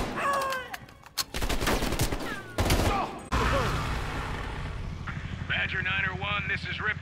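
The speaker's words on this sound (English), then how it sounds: "We are still under heavy fire." Heavy gunfire in Call of Duty Black Ops Cold War, dense bursts of automatic fire with booming impacts, then a quieter stretch of distant shooting under radio chatter and voices.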